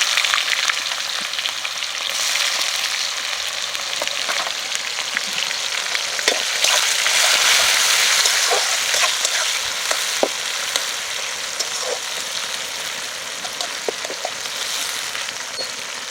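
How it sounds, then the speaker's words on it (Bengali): Chopped onion hitting hot oil with browned cumin seeds, a dense bright crackling sizzle that stays loud and steady for a long stretch, dotted with small pops and occasional stirring clicks, nearby and without talk. "এখন আমরা পেঁয়াজ কুচিটা দিয়ে দিচ্ছি।"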